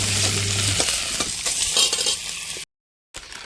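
Fish heads frying in oil in a pan, a steady bright sizzle with a few light metallic clinks of a utensil, cutting off abruptly into a short silence before a brief quieter return.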